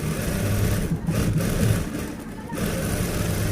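A sewing machine stitches a folded bias-cut fabric strip for a designer blouse, running in a steady whirring drone that dips briefly twice before resuming, close and fairly loud with no speech.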